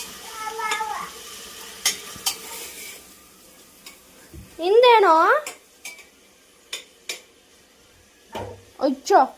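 Tomatoes fry in a pan with a soft sizzle, while a utensil clinks and scrapes against the metal in scattered knocks. Brief voices cut in between the stirring.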